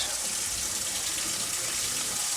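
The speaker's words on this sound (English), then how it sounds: "I am starting with hot water from the faucet." Hot water runs steadily from a kitchen faucet into a cooking pot for beans, a continuous soft hiss and splash at moderate distance with no other sounds.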